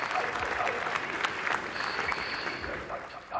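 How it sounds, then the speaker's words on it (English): Audience applause at a business talk on digital platforms, steady dense clapping throughout, loud and close, with a faint tone in the middle. "So please give Richard Shur a big round of applause."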